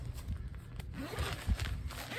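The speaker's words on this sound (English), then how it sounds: "Zippers are real heavy duty." A heavy-duty zipper on a Pomoly Stove Hut 70 tent pulled in a couple of short rasping runs, close and fairly loud, with a bit of shuffling movement around it.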